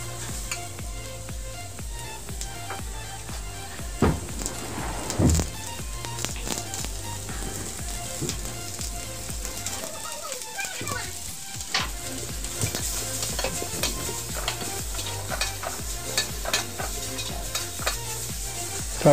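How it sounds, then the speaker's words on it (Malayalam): Onions with a pinch of salt sautéing in a pan, a steady close sizzle with repeated scraping strokes of a stirring utensil, briefly quieter near the middle, with no voices. "സവാളയിൽ ഒരു നുള്ളി ഉപ്പും കൂടി ഇട്ട് നന്നായി വഴറ്റിയെടുക്കണം."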